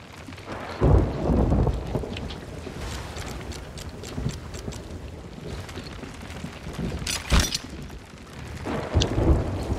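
A thunderstorm on the open sea in the pirate video game Sea of Thieves: steady rain with heavy rolling thunder and several sharp cracks, loud and close, and no talking.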